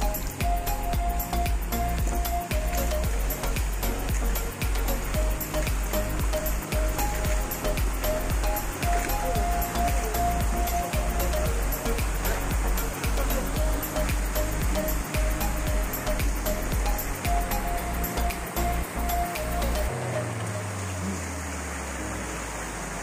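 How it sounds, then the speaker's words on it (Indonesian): Wair Batik waterfall in Sikka, Flores, a loud, steady rushing roar of falling water heard up close, continuous and unbroken, with the sound thinning out near the end. "Ini air terjun WAIR batik."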